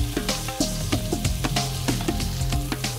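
Prawns and garlic sizzling in a frying pan, a steady loud crackle with rhythmic scraping strokes of stirring repeating about every half second, close up and without talk.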